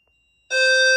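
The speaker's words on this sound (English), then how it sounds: "That's pre-alarm." A fire alarm system's pre-alarm, set off by fog machine smoke reaching a detector, cuts in halfway through as a loud, steady electronic tone after near silence.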